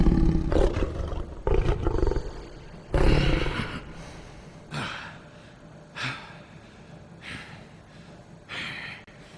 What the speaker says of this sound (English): do that scream at the end. That roar.